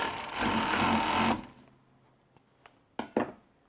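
A sewing machine stitches a seam while letting out the waist of a pair of jeans, running in a loud continuous whir for over a second before stopping, followed by a few sharp clicks and knocks nearby.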